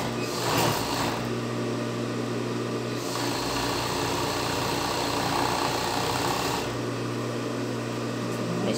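A sewing machine stitches stretched lace fabric while a double-strap panty is sewn, its motor humming steadily and close for the whole stretch, with brief louder bursts as the stitching speeds up.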